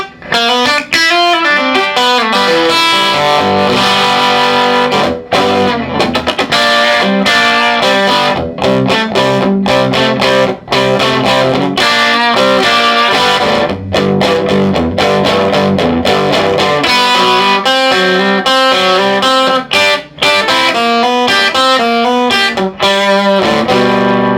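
Electric guitar with P90 pickups played through a 1964 Vox AC10 Twin amp turned up, loud distorted chords and riffs ringing out continuously with brief gaps between phrases.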